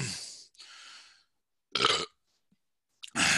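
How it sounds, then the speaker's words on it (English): A person burps close to the microphone in a quiet room: a couple of short, breathy eructations separated by silence, the last one cut off at the end. "I feel like there was a burp in there"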